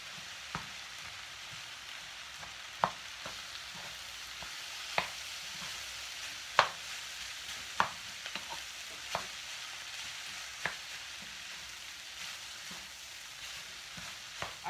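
Plain white rice being stirred in a hot pan for vegetable fried rice: a steady soft sizzle with sharp scraping strokes every second or two, close and moderately quiet, no voices.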